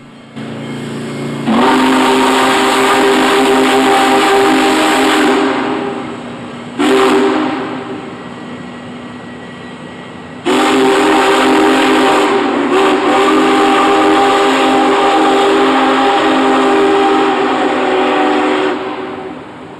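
The Union Pacific Big Boy steam locomotive's whistle blows in long, loud blasts, several times in succession, over the low rumble of the train crossing a trestle in the Feather River Canyon.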